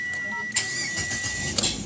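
A Mitsubishi Xpander with weak spark plugs starts after a delay: a faint, hesitant cranking whir comes first, then the engine catches into a soft idle.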